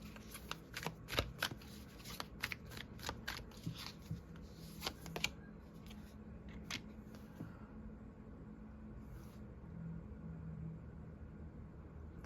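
Close, quiet card shuffling: a run of quick riffling bursts and snaps early on, thinning out to softer handling later.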